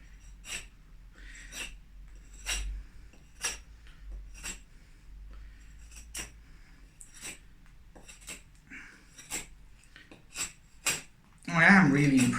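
Ontario SP10 knife taking light chops into wood, a dozen or so sharp, evenly spaced knocks with brief pauses between them, followed by a burst of rustling at the end.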